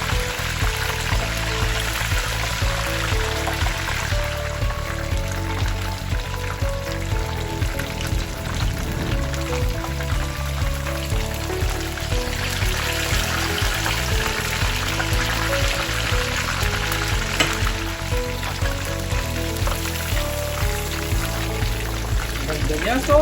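Chicken katsu deep-frying in hot oil, a dense continuous sizzle and crackle that holds close and steady throughout, with people talking over it.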